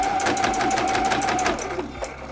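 A sewing machine running a fast even stitch over strap reinforcement on a small scrap-fabric tote bag, a close rapid mechanical patter that slows and softens near the end.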